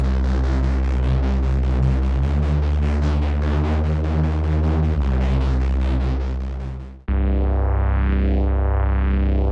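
A loud, buzzing, distorted reese bass synth drone from Serum, with tube distortion and a wide, throbbing texture, holds for several seconds, shifts tone abruptly near the end, then continues.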